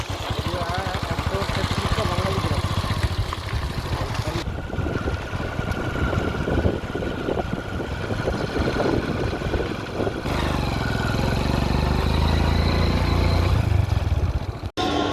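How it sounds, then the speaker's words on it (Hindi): Motorbike ride out from a farm field toward a parked vehicle in a Bengali village in Pakhanjur, Chhattisgarh; a steady engine drone with heavy wind rush on the microphone runs throughout, loud and close. "गाड़ी की तरफ जाएंगे बाइक में।"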